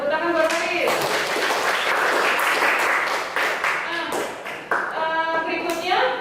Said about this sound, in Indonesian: tepuk tangan buat Haris